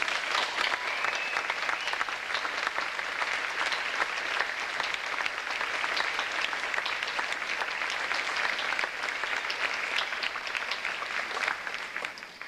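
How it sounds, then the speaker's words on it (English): Sustained audience applause for kids, a steady dense clatter of many hands at moderate distance and fairly soft level, continuing evenly for over twelve seconds before tapering slightly. "Let's give those kids another round of applause."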